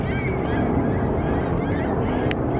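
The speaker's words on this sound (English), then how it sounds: "You can hear some seagulls." Gulls call near the Detroit River in a city street setting, with one short sharp cry standing out late over steady traffic and wind rumble.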